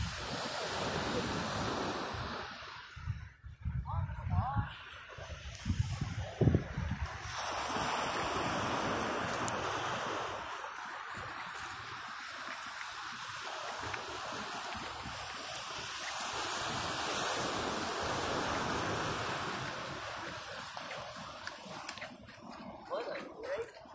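Ocean surf at Vilano Beach rolls and washes steadily onto shore, with gusts of wind buffeting the microphone and a few brief voices nearby.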